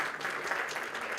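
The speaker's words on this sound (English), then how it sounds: "So we welcome him with a big round of applause," Audience applause at a Pakistani pioneers convention welcoming a speaker to the stage: a brief, steady wash of many hands clapping at moderate volume, with no voices standing out.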